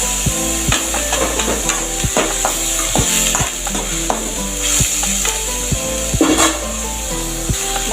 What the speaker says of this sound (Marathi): मुगाची डाळ पण परतून घ्यायची।